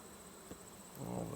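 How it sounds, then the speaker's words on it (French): Honeybees buzzing faintly on hive frames during a hive inspection, a soft, steady drone with a slight swell near the end. "9 cadres et demi d'abeilles."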